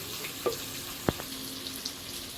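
Onions frying in pungent mustard oil, a soft, steady sizzle with a few sharp clicks and taps of stirring, close and quiet with no talk.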